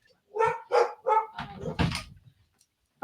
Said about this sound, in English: I'm sorry, dog's background.